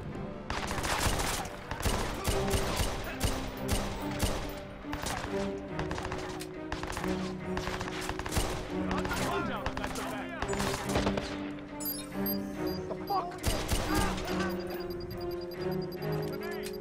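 Rapid gunfire crackles in bursts during a shootout with snipers in the Watch Dogs video game on PC, with loud sharp volleys repeating across the whole stretch.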